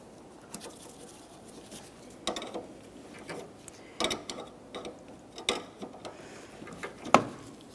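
A ratchet works a nut on an AC compressor line in a 2006-2011 Honda Civic, giving scattered, uneven metallic clicks and taps at close range with no talking.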